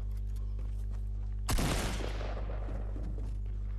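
A single loud gunshot blast bursts out of a shooter video game over a steady low electrical hum, then its crackling echo tails away for about two seconds.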